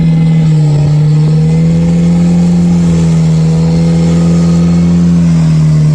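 A Jeep with 4.88 gears revs its engine on a Florida off-road trail, holding a loud, steady mid-pitched drone with a slight dip and rise in pitch, close and continuous with no talking.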